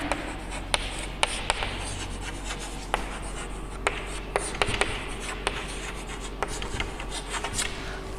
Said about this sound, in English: I write the table of 2